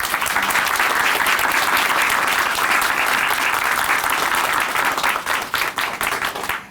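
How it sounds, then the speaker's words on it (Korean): Sustained audience applause in a studio for a Christian TV testimony program, dense steady clapping filling the whole stretch and thinning slightly toward the end. "우리 다시 한번 임정자 자매님께 큰 박수 보내드릴게요."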